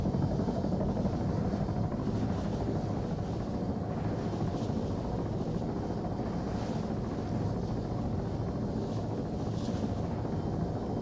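Helicopter rotor blades in Arma 3, a loud continuous chopping roar that stays steady and close throughout with no other sound breaking through.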